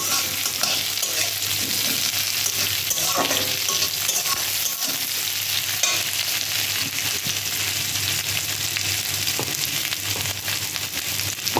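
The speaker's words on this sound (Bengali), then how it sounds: "পেঁয়াজটাকে লাল লাল করে ভেজে নেব।" Onions frying in hot oil in a home kitchen, a continuous close sizzle with occasional stirring scrapes and spatula knocks, steady throughout with no talking.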